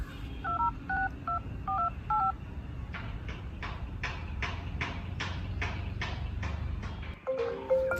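A phone number dialed with a quick run of DTMF keypad tones, followed by a rapid series of sharp clicking beats and then a brief electronic tone at the end.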